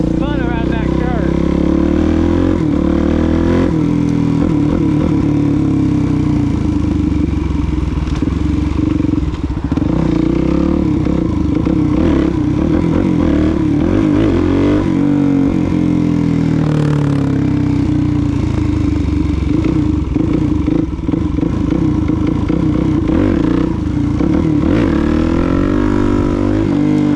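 A Suzuki DRZ400 motorcycle rides on wet rainy roads, its engine droning loud and constant close to the microphone with rising and falling revs and a heavy rush of wind and spray.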